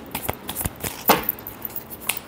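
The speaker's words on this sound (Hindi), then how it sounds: "Last shuffle." Tarot cards shuffled close up in a rapid series of crisp riffling flicks and snaps, irregular in rhythm, with no one speaking.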